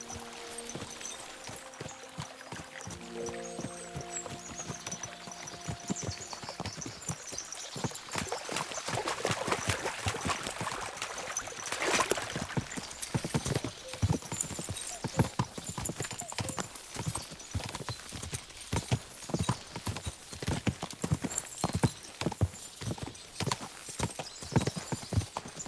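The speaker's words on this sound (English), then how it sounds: "As soon as we cross the stream, we'll give the horses a gallop again." Horses gallop in the Kingdom Come Deliverance 2 video game, a dense rhythmic drumming of hooves that builds after an opening of splashing water and continues steadily, close and loud, with no voices.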